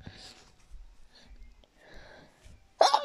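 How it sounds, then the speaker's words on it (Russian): A single sharp, loud human sneeze bursts out at the very end, after a stretch of quiet breathing and faint room noise. "чтоб не чихали, как я"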